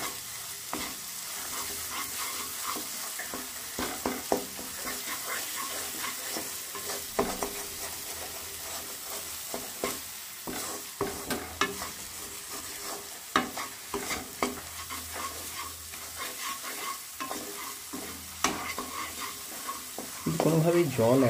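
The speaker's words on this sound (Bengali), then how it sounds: "ক্রমাগত একটু সামান্য মিডিয়াম আছে মশলাটাকে ভাজতে থাকুন।" Spice paste (masala) for palak chicken frying over medium heat while being stirred continuously, with a steady close sizzle and repeated scraping strokes of a spoon in the pan throughout.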